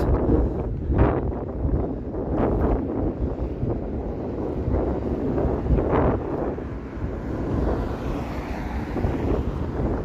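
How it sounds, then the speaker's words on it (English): Strong outdoor wind in Toronto on a late-November day, a loud continuous roaring buffet against the microphone with gusty swells and no talking. "the wind is picking up now"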